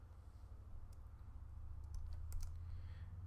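Computer keyboard typing a search into a web page's source view, a quiet, soft patter of key clicks over a low background hum, with a brief louder burst of taps near the end.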